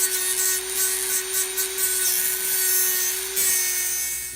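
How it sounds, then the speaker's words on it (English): A small screw being sawn by hand during a Han Solo DL-44 blaster prop build, a steady rasping back-and-forth scrape with a thin sustained whine running through it, close and fairly loud, with no talking. "I did have to cut the screw"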